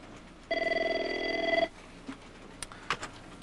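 A telephone bell rings once in a single sustained burst lasting about a second, clear and fairly close, followed by quiet room noise and a few faint clicks.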